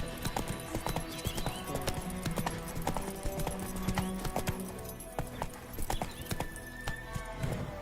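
Horse hooves of Roach clip-clopping in The Witcher 3 next-gen update on PS5, a steady walking rhythm close by over ambient game music and village sounds, with a brief whinny.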